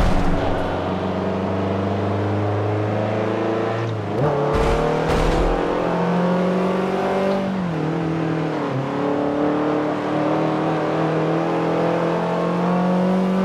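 Subaru race car in the Forza Motorsport 7 video game on the Nordschleife, a loud, steady engine drone with rising revs, brief dips and shifts around gear changes, continuous and up close.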